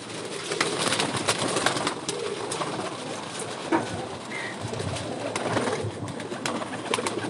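Bajrai pigeons coo in a loft, soft repeated throaty calls from several birds close by, with rustling, scattered clicks and background activity but no speech.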